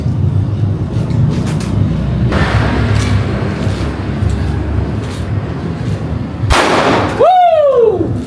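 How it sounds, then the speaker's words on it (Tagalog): Firecrackers set off outdoors for New Year in the Philippines, making a dense, noisy crackle of bursts and pops up close, with one sharper blast followed by a whistling, sweeping tone near the end. "paputok na tayo"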